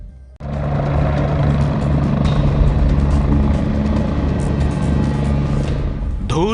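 A helicopter lands on a helipad and kicks up dust, its loud, close rotor and engine roar droning steadily throughout after a sudden start.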